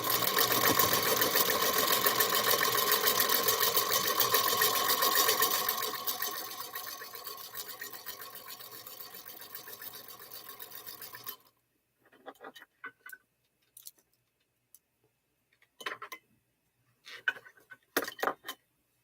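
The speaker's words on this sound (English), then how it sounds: "and then I go back and I top stitch it" A sewing machine top stitching a small wallet runs in a steady, loud, fast whir for about eleven seconds, then stops. Scattered short clicks and handling noises follow in near silence.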